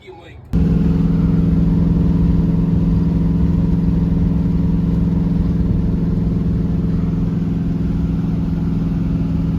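A 1990 third-generation Chevrolet Camaro idles with a vacuum leak, a steady loud engine drone starting after a brief quiet moment and holding evenly throughout, close to the car.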